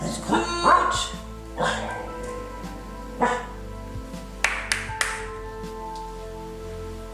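A shepherd dog barks indoors in a handful of loud, separate woofs spread across several seconds, close to the listener, with a brief spoken exclamation between the barks.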